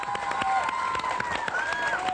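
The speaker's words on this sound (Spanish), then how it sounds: "Un aplauso a la chilindrina, por favor, aplaudan" A studio audience claps with scattered cheers, a moderate wash of hands with distinct near claps and a few whistle-like tones rising over it.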